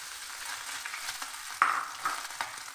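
Picked fish fries in oil with browned onion, ginger and green chilli for a fish cutlet, giving a close, steady sizzle broken by a few utensil scrapes and stirring clacks, with no speech.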